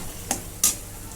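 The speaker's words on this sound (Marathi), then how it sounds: "आता मसाला आपला चांगला भाजून झालेला आहे" Masala roasting in a pan for spicy Kolhapuri misal, heard as two quick scraping stir strokes over a faint sizzle in a very brief close-up moment.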